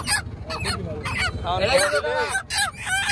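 Chickens for sale at a market, sold in tied pairs, give a few close, harsh clucking calls over a steady bed of crowd chatter and voices.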